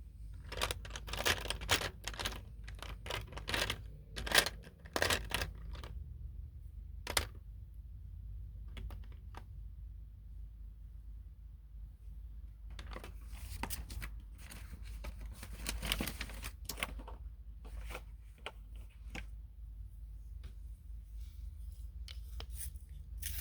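A pink colored pencil taps dots onto paper in quick irregular clusters of faint sharp ticks, separated by quiet pauses, close and soft with no talk.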